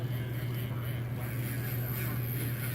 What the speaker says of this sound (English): If you get real close to it, you can hear ang, ang, ang, ang, ang, right in there on the motor.